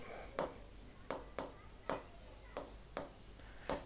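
Writing on a board gives faint, evenly spaced short strokes, about two per second, against a quiet room.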